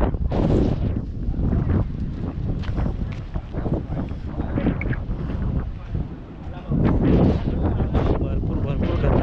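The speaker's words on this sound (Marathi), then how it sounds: "भरपूर खतरनाक वारा सुटलाय केडला डोळ्यात सगळी माती झाली" Strong windstorm blowing dust in a village near Khed, heavy continuous buffeting roar on the microphone with a brief lull before it surges back, while someone talks close by.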